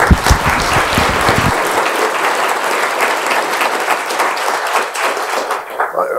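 Audience applause welcoming a seminar speaker: a roomful of people clapping steadily and fairly loudly, with a few heavier close claps at the start, fading slightly near the end.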